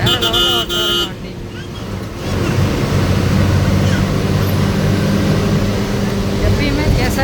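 A KSRTC bus speeding from Trivandrum to Nagercoil, heard from inside as a steady, loud engine and road roar with rushing wind, a brief horn toot near the start, and voices talking over it.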